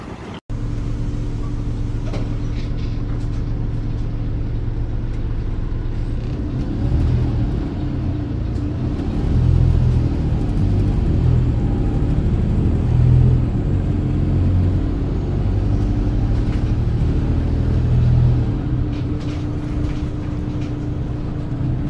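A Volvo B7RLE bus with Wright Eclipse 2 bodywork idles and rumbles close by, a steady low engine drone with a hum that swells slightly midway, no voices.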